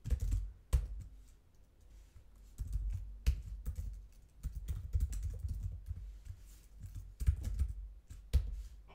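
Rapid keystrokes on a computer keyboard while JavaScript code is being typed, irregular bursts of clicky taps at close range with short pauses between runs, no talking.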